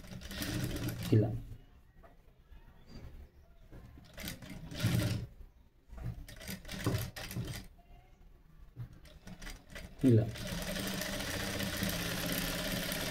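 Sewing machine stitching a princess-cut blouse in a tailoring class, running in several loud bursts between pauses while someone talks throughout.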